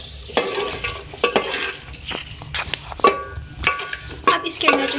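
Chicken white stew in a pan with garam masala powder being stirred in, repeated close scraping and clinking spoon strokes over a low sizzle in an uneven rhythm.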